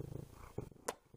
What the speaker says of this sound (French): Est-ce que vous allez l'entendre ronronner?